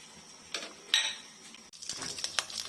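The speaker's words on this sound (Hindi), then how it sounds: "ये मेथी दाना जरा सा फुटफुटाने लगा" Fenugreek seeds sizzle and crackle in hot oil that was just used for frying fish, heard close up as a soft hiss with faint scattered pops and a light clink of a metal utensil against the pan.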